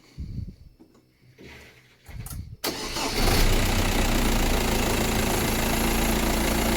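A VW Passat B5 TDI diesel engine cranks briefly, catches and settles into a loud, steady clattering idle, close up with no talk.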